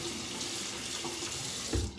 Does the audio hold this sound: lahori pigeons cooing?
no